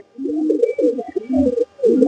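A racing pigeon coos in close, loud, rolling bursts, with brief gaps between the phrases and no talking.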